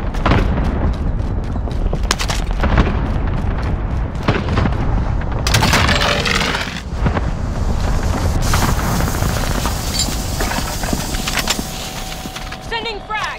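Airstrike explosions in the Call of Duty video game, with heavy booms and rumbling blasts mixed with gunfire and whooshing effects, loud and continuous throughout.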